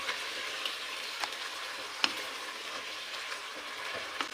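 Ginger garlic paste and chicken sizzle together in a hot pan, a continuous crackling fry broken by light scrapes of a stirring spoon, with no voices.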